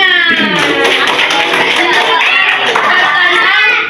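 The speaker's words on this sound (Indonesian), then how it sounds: "tepuk tangan" A classroom of children at a madrasah claps in a loud, sustained burst close by, with children's voices mixed in.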